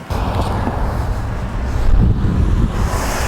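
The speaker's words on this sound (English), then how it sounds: "it is windy as heck here" Strong wind buffets the microphone with a steady low roar and rumbling gusts throughout, with no other sounds standing out.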